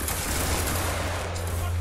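A volley of line infantry musket fire in a multiplayer battle game, a dense, continuous crackle of many shots merging into one loud roar for the whole moment.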